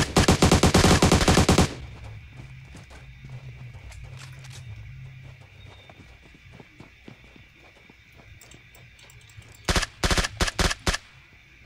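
In the PUBG Mobile game, a loud rapid burst of automatic gunfire opens, then quieter footsteps and ambient movement follow, and a second cluster of sharp shots lands near the end.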